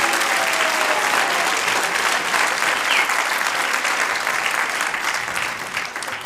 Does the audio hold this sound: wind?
no